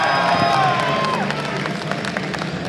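Rowdy esports tournament crowd in New York cheering and clapping at the Intel Extreme Masters, a dense, sustained roar of voices and applause filling the hall throughout.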